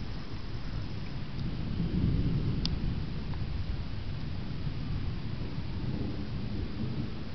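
Thunder rumbles low and steady through a lightning storm with light rain sprinkling, a broad continuous roar with no speech.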